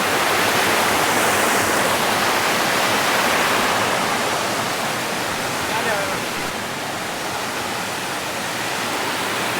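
Rushing water from the small Himidurawa waterfall fills the whole stretch as a steady, loud, broadband roar with no pauses.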